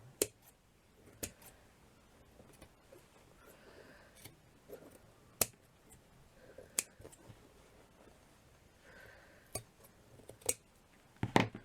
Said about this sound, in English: So I just basically want to trim it.